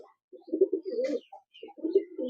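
Teddy pigeons in a small cage coo in low, throaty, rolling phrases, two close bursts separated by a short pause, heard near and alone.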